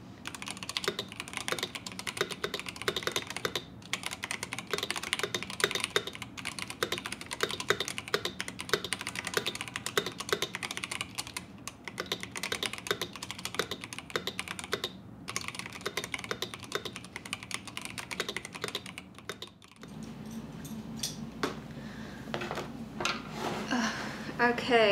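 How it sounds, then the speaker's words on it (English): Rapid, continuous clicking of computer keys being typed close up, a dense rhythmic patter that stops near the end, leaving quieter room sounds. "I'm gonna bless you guys with some top quality keyboard ASMR right now, so listen to this."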